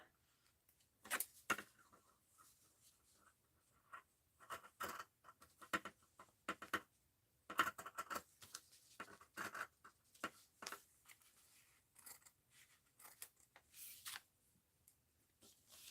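Short snips of scissors cutting paper or fabric in a craft setting, occurring as sporadic bursts of sharp, crisp snipping and rustling, close and moderately quiet.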